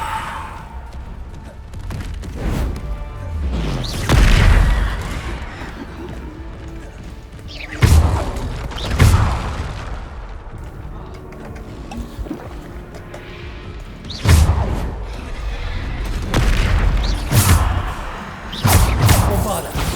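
The Bombarda explosion spell going off in a video game, heard as four heavy blasts spaced a few seconds apart, each a loud broadband burst with a rumbling tail over a busy, noisy background.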